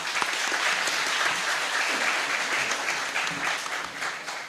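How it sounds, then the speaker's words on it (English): An audience at a fraud conference applauds, with thick, sustained clapping from many hands that fades slightly toward the end. "You guys are so cute for applauding."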